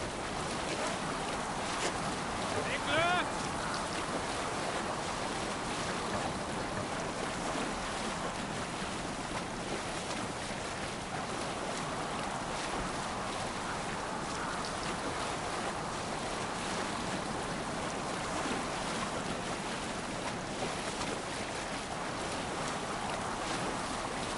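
A Viking longship sails across open sea in Assassin's Creed Valhalla, with a steady wash of waves, rushing water and gusting wind that holds at an even level throughout, with no voices.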